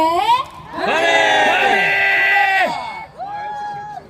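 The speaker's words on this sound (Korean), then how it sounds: "박수로 맞이해주세요" A crowd at the Muju Firefly Festival cheers and whoops loudly for about two seconds, then the shouting fades and a second, smaller burst of cheering follows.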